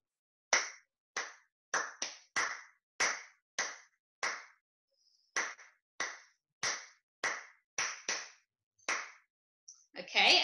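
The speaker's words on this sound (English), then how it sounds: "I'll clap you the rhythm I'm going to play in a moment" Hands clap out a rhythm during a children's science class, about nineteen sharp, close claps in an uneven pattern with short pauses, heard alone in otherwise quiet surroundings.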